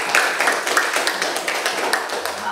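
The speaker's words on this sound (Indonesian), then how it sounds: "Ya, terima kasih, tepuk tangan." A classroom of students claps together in a brisk, slightly uneven burst of applause, close and fairly loud, with individual hand claps audible throughout.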